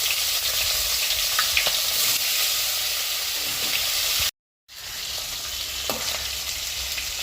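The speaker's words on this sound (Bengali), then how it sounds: "একটু লাল লাল করে মাছগুলো ভেজে আমি তুলে ফেলব" Small rita fish frying in hot oil, a steady close sizzle with scattered crackles that cuts out briefly near the end before resuming, no talking.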